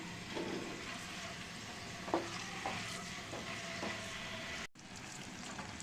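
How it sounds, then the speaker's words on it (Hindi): Thin pieces of chicken fry in oil for a chicken and vegetable chow mein, giving a steady soft sizzle with a few stirring clinks and scrapes and a brief drop-out near the end. "इसको पहले हम थोड़ा सा फ्राई कर लेंगे।"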